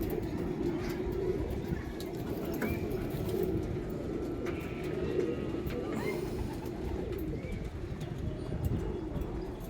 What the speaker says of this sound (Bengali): পায়রা এখানে তিন ছয় সাত আট এই আট পিস বসে আছে